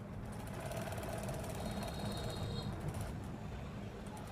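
A sewing machine running continuously as it topstitches over a shirt armhole, a dense, even rattling whir at close range with no voices.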